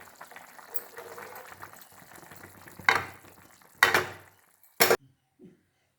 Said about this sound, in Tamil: வேக வச்ச அரிசியும் பருப்பையும் போட்டு இப்போ இதோட நல்லா கிண்டணும்